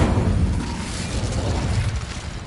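A fiery Incendio spell cast in Hogwarts Legacy, a sustained roaring whoosh of flame with a heavy low rumble, loud and close, holding steady for a couple of seconds.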